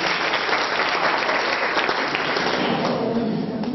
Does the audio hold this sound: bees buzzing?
no